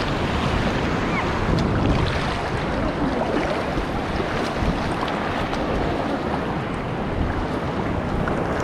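Ocean surf at a beach rolls and crashes in a steady, loud roar with rushing wind across the microphone, and no voices are heard.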